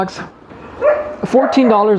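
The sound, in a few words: big dogs barking next door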